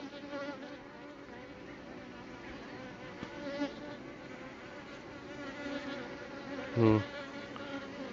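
Bees hum in a low, steady drone close by, with a brief louder buzz near the end; no talking.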